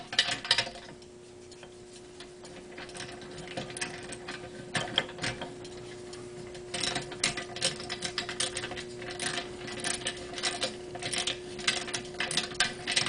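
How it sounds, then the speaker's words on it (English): An 11/16 socket and ratchet tightening bolts on a parking meter mounted to a pole, producing rapid, repeated clicking of the ratchet pawl in uneven bursts, close and fairly quiet. "Take an 11/16 socket and ratchet."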